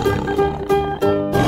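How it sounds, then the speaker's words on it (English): A tiger roars loudly and close up in a short burst, the growling call rising and falling over a steady rhythmic backing. "tiger,"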